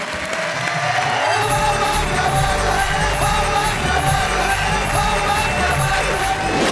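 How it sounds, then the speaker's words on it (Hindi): Loud applause and cheering from an audience at a Hindi poetry recital show, a steady roar of clapping with whoops and shouts throughout. "जोरदार ताली"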